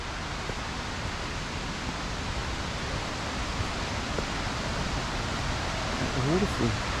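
Continuous rushing roar of water at the foot of Pistyll Rhaeadr waterfall, heard up close and filling the scene evenly, with a brief soft voice near the end.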